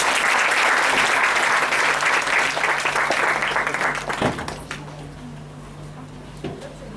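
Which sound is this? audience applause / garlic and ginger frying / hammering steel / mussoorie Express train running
audience applause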